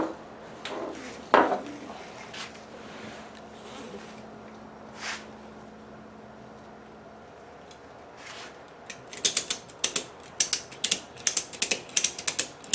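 A ratchet strap is tightened around the hoops of a 26-inch powwow drum, with scattered clicks and handling noises at first, then a quick run of sharp, close ratcheting clicks near the end.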